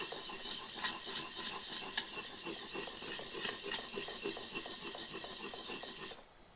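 A plane blade rubbed in circles on a sharpening stone makes a quiet, close, continuous gritty scraping with a faint rhythmic pulse, stopping abruptly near the end.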